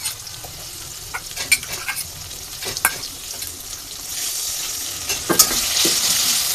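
Onion and cumin paste sizzles in hot oil in a pan for a grass carp curry with potatoes and peas, with steady frying hiss broken by scattered scrapes and clacks of stirring, close and without talk.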